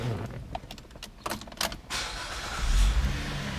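A Chevrolet Equinox starter cranks after a few clicks and rattles inside the cabin, then the engine catches and settles into a steady low hum at close range.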